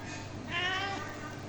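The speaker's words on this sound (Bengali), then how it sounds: "মাংস খায় তো নাকি বিড়াল?" A hungry cat gives a single short, close meow over a steady background hum.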